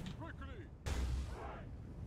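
Artillery booms out in Medieval II Total War as a bombard fires canister shot at an advancing unit; a single heavy blast follows a short stretch of in-game voice, then fades into a rumbling tail.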